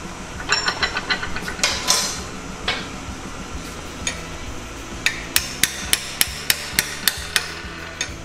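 Hammer blows strike steel held in a vise to finish a cut: a loose cluster of irregular hits at first, then a quick run of about eight sharp, evenly spaced metallic strikes, close and clear.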